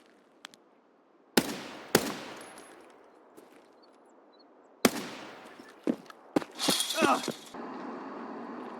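Gunfire in the video game Escape from Tarkov: a few sharp, loud single shots spaced seconds apart, then a quick cluster of cracks and a rough burst of firing that trails into a steady hiss.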